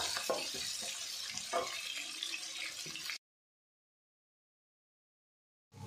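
Onions fry in a pan with a steady, close hiss and crackle for about three seconds before cutting to silence, then briefly resume at the very end.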